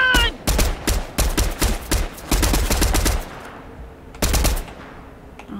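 Assault rifle fire in Fortnite comes in rapid bursts of loud, close shots, several volleys separated by short pauses, with one last burst after a brief gap.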